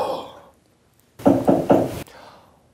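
Three firm knocks on a door in quick succession, close and loud, after a moment of silence, a sound effect in a ghost story where a monk knocks to wake someone; a faint voice trails off before the knocks.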